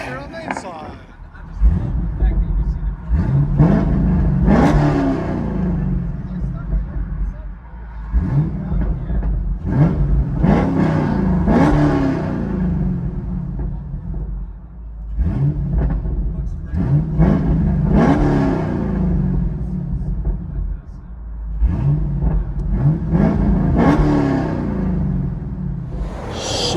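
Inside a 2013 Chevy Camaro SS with a 6.2L V8, long tube headers and Corsa Extreme exhaust, the engine revs in repeated loud surges that rise and fall about every few seconds, with a deep rumble and someone speaking over it.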